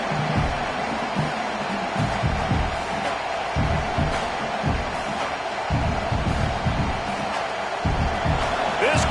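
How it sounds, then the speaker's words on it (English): A football stadium crowd at a college game roars in a broad, sustained wash of cheering, dense and continuous, with an announcer talking over it throughout. "This crowd bringing the energy and noise early."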